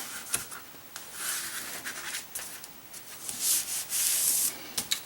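An X-acto knife scoring watercolor paper to trim it for a homemade watercolor block, a series of short dry scraping strokes, close and crisp, with brief pauses between passes and no talking.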